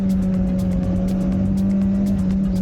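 A Honda car on a mountain touge road, driven by a pro drifter, holds a steady loud engine drone under engine braking after a downshift, with no talk.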